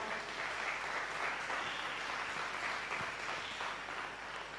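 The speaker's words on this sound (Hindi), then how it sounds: "जोरदार ताली।" Loud, steady audience applause at a church preaching service fills the whole stretch, a dense wash of clapping with no voices over it.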